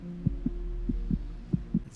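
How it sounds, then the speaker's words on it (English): Heartbeats from the TV series The OA, a steady low thumping double pulse repeating about three times over a continuous low hum, with no talking. "You can hear their heartbeats."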